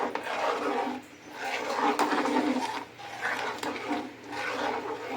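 A spoon stirs sago in a pot continuously, giving soft, faint scraping and rubbing strokes in a steady back-and-forth rhythm close by.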